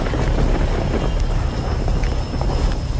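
Heavy rain falls in a steady, dense roar with low rumbling that suggests thunder, loud and continuous, with no voices over it.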